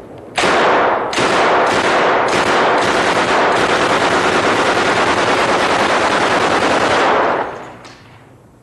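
A 1928 Thompson submachine gun fires several loud, close bursts in quick succession, a few short ones followed by a long sustained stream of automatic fire lasting several seconds before the shots stop.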